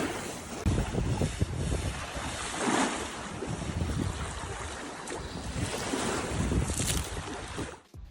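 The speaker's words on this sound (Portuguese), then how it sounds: "As ondas batendo na costa" Surf rolls and breaks along a shore lined with swaying palms, a steady broadband wash with surges around the third and seventh seconds, heavy wind noise on the microphone, no voices.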